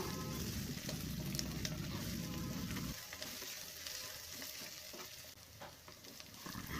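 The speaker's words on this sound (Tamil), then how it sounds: "வெண்டைக்காயும் ஒரு 5 நிமிஷம் வதங்கட்டும்" Cut okra sizzles and frys in a pan of fenugreek curry, a steady faint hiss with soft crackles and light stirring scrapes, louder and fuller at first then thinning to a quieter sizzle.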